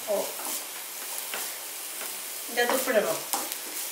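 Eggs for anda bhurji fry over a high flame while they are stirred without stopping, with a busy sizzle broken by scraping spatula strokes and a louder run of stirring near the end.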